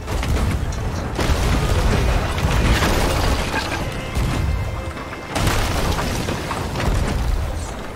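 Ship cannons firing in a pirate sailing game, a string of loud booming blasts over constant sea and ship noise, with a brief lull before the bangs resume.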